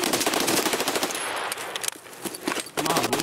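Dense automatic gunfire rattles in Escape From Tarkov, sustained rapid bursts close and loud with a brief gap before the shooting resumes.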